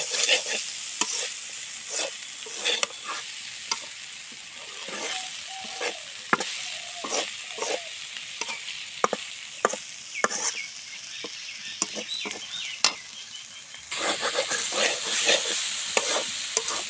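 Malabar spinach stalks and seeds fry in a pan with a steady close sizzle, broken by frequent sharp scraping and tapping stir strokes that come in irregular bursts, the frying growing louder toward the end.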